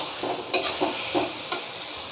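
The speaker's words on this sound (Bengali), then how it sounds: "ভালো করে কষিয়েছি ভালো করে কষানো হয়ে গেছে আমার" Prawns sauté in a hot pan with a steady broadband sizzle, broken by a few sharp scraping stir strokes roughly every third of a second to half second.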